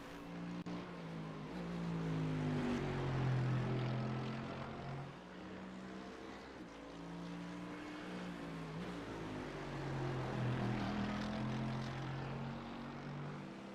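Mercedes AMG GT3 race car engine in a racing video game, a steady deep rumble rising and falling in pitch across a long stretch, loud and continuous with no talk over it.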